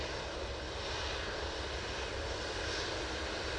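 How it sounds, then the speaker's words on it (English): A Ryanair airliner comes in to land at Manchester Airport, a steady broadband engine roar heard at moderate distance with no break in the sound. "Ryanair coming on in front of us."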